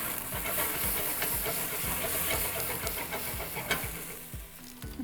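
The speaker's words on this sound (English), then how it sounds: "we're gonna flambe cognac or brandy" Cognac or brandy flambés in a pan beside browned meat for a macaroni meat sauce, giving a loud, continuous steamy hiss and sizzle with soft repeated clinks and thumps underneath.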